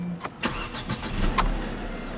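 A 2012 Mercedes-Benz C250 with a 1.8-liter turbo four-cylinder starts up: a few quick starter clicks and cranking bursts, then the engine catches into a low, steady idle, heard close with no talk.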